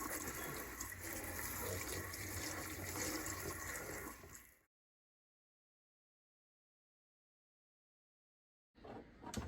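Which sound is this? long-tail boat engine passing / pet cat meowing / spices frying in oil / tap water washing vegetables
tap water washing vegetables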